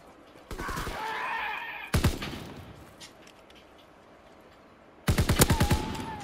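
Gunfire from the Call of Duty WW2 video game in gun game mode: three sharp bursts of rapid automatic shots, separated by quieter gaps, loud and close with no talking.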